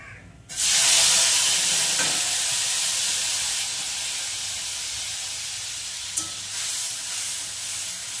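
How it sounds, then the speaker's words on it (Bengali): Pointed gourd flesh filling is stirred in a hot wok until dry, with a loud hiss of sizzling that starts abruptly and holds steady, broken by a couple of faint utensil scrapes. "এটাকে ভালো করে কড়াইতে টানবো, নাড়িয়ে নাড়িয়ে একদম শুকনো করে ফেলবো।"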